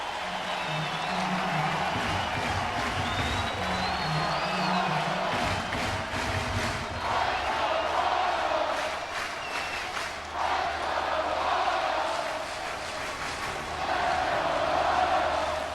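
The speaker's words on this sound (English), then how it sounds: "Huge pitch coming up, and all Chris Carpenter can do is fiddle in the dugout and hope. Crowd on its feet." Baseball stadium crowd at a Cardinals at Royals game rising to its feet before a full-count pitch, a broad sustained roar of cheering and applause with commentary running over it.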